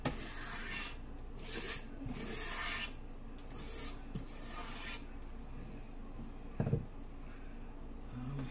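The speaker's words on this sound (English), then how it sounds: "Scrape down my sides because I don't want to waste none of this." A spatula scrapes around the sides of a mixing bowl of batter for devil dogs, giving repeated rasping strokes in short bursts, close and fairly quiet, followed by a quieter stretch.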